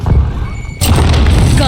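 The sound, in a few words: grenade explosion in a video game shooter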